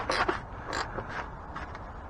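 A part is hand-tightened during an oil change on a 2025 Kia K4, producing a few short creaking, scraping turns close up with brief pauses between them.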